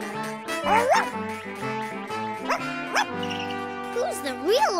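A cartoon dog yips and barks several times in quick, excited bursts, close by and fairly loud, with high whimpering tones between barks.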